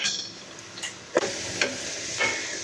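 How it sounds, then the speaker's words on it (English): Food sizzles steadily in hot oil in a pan with a soft continuous hiss, broken by a few light clicks and scrapes of a utensil stirring. "I'm gonna get that oil nice and hot and start to kind of fry up the stuff that's in our pan."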